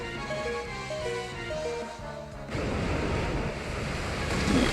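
Pokémon battle game music plays, then gives way to a loud rushing wash of water from the Muddy Water attack that swells and surges like crashing waves.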